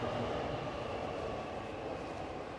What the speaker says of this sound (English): You can hear the train above